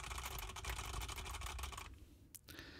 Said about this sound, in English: banging on my keyboard.